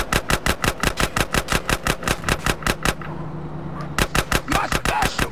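Rapid automatic gunfire in a drive-by shooting in GTA San Andreas, loud evenly spaced bursts that pause briefly around the middle before resuming, over a low engine hum.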